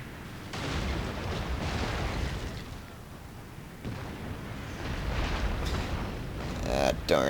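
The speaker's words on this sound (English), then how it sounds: "Naval bombardment should be here at any moment." Naval bombardment artillery in the Total War Shogun 2 strategy game, a series of heavy booming blasts and rumbling impacts rolling one after another, loud and dense with crackling debris.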